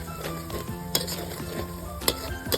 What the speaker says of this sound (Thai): ใส่พริกลงไปเลย อันนี้เราปั่นนะคะ เสร็จแล้วผัดค่ะ